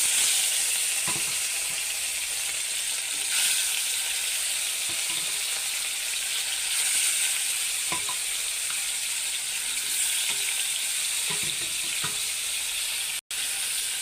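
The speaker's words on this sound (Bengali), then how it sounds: "মাছ এখানে ভাজি লই।" Fish frying in a hot pan in a village kitchen, a constant loud hiss and crackle of oil that runs unbroken, with a few faint clinks and a brief dropout near the end.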